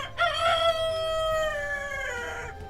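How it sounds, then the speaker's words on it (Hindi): A single rooster crows once, loud and close, a long drawn-out call lasting most of the moment, with faint clucking beneath. "ये 2 मुर्गे हैं और ये मुर्गी है।"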